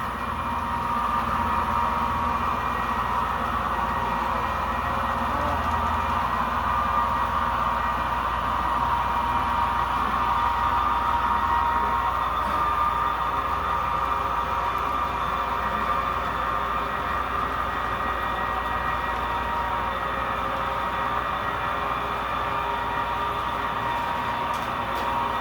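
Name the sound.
model train running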